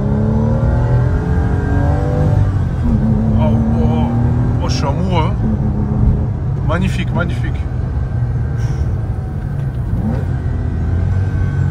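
A Porsche engine with an IMS (intermediate shaft) rumbles steadily and revs up in several rising pulls, with someone talking excitedly over it throughout.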